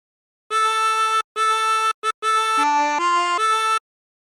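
A chromatic harmonica plays a phrase of Drunken Sailor, a string of clean reedy notes: three repeated tones, a short blip, then a stepping run, heard alone and close.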